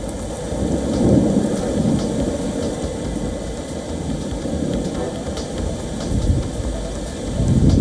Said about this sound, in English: Eiffel Tower disappears behind a curtain of rain and clouds as a heavy storm in Paris brings gushing winds and heavy rain on Wednesday.